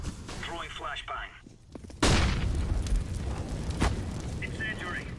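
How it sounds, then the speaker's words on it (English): A flashbang grenade goes off during a Counter-Strike match on the Overpass map: a sharp, loud broadband blast, then a second, smaller burst shortly after, over busy background game noise and faint voices. "Throwing flashbang"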